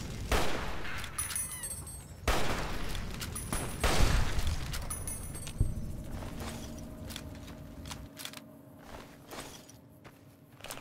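Gunfire in the video game Fallout New Vegas: several sharp shots with echoing tails in the first half, then quieter game ambience and a lone distant crack, no speech heard.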